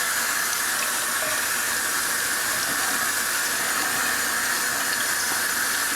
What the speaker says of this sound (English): I'm gonna add a little bit of water to take out all the little goodness